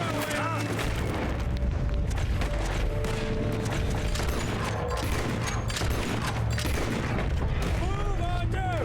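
Dense Red Dead Redemption 2 gunfire: rapid overlapping shots and booming blasts in a loud, continuous firefight, with voices shouting over it.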